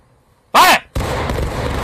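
A musket volley in War of Rights, a Civil War shooting game: a shouted command, then one loud, sharp crack with a long rolling echo that fills the rest of the moment.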